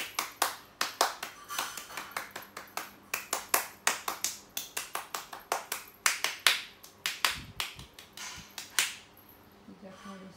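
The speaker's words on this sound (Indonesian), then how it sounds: "Tepuk pramuka." Indonesian scouts perform the rhythmic Pramuka clap, sharp, evenly patterned hand claps in quick groups and pauses, fairly close and crisp, with voices faintly present.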